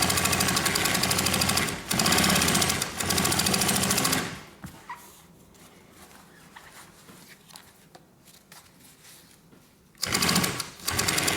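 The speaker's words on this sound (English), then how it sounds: "I'm going to sew the outside edge first to make sure I've got it lined up properly" Sewing machine stitching a DIY backpack, a loud rapid mechanical chatter in two long bursts with a quieter, low handling pause between them.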